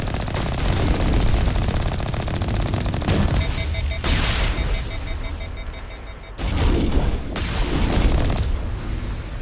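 Sustained automatic gunfire from a firefight in the video game Mass Effect, dense rapid bursts with booming impacts running nearly continuously, briefly dipping before resuming loud and close.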